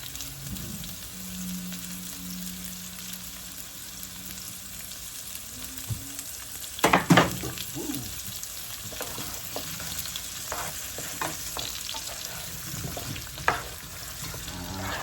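Potatoes fry in Imperial butter in a pan with a steady, close sizzle and crackle that runs throughout, broken by a louder scrape or clatter midway and a few lighter knocks later.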